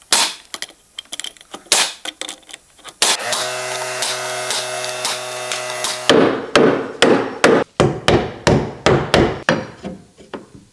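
Hammer driving nails into a wooden floor joist during a missing-joist repair, sharp close blows in irregular bursts, then a steady rhythmic run of strikes after a brief mechanical whir.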